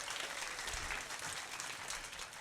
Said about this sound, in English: give yourselves a huge round of applause for coming out to the theater tonight